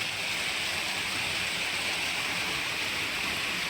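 Water rushes in a steady, unbroken roar along a rocky stream with a waterfall ahead, a dense continuous wash with no pauses or voices.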